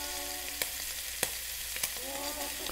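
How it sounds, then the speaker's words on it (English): Pork kidney, heart, spleen, liver and hanger steak fry together in a pan with a dense, continuous sizzle, punctuated by three distinct sharp clicks spaced evenly across it. "We are ready to begin frying up this mountain of morsels."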